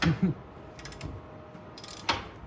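A wrench ratchets as it tightens the oil drain plug on an Acura MDX, a few short clicking pawl sounds close by, quiet, with brief voice sounds at the start.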